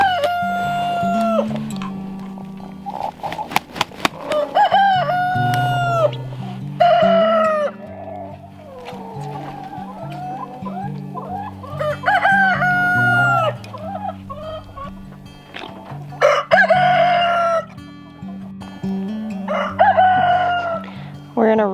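Several roosters answer each other in repeated crowing bouts, loud and close, with clucking between calls and a voice now and then over a low steady hum.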